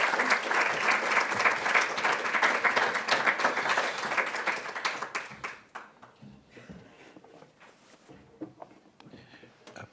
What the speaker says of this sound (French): Mais François, je t'invite donc à venir tout de suite au podium, sous les applaudissements du public.